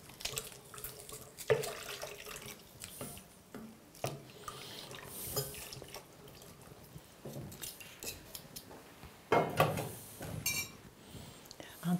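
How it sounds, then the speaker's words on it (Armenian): Water poured and splashing into a flour mixture being mashed for karshm, a run of uneven trickles and splashes with sharper bursts near the end, with some soft kitchen clatter around it. "Ավելացնում ենք նորից ջուր։"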